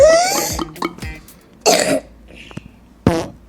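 Beatboxed imitation of drinking water made with the tongue and throat, a few hollow gulping clicks and pops spaced out with pauses, close and fairly loud, no talking.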